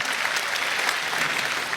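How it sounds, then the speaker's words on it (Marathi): An audience at a Marathi stage show claps hard in a thick, steady wash of applause, loud and sustained through the short stretch with no voices on top. "ब्रासचे बॉस करास सरांसाठी एकदा जोरदार टाळ्या झाल्या पाहिजेत मित्रांनो."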